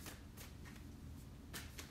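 Tarot cards shuffled by hand in a quiet room, giving a few soft, brief riffling bursts against faint background hiss.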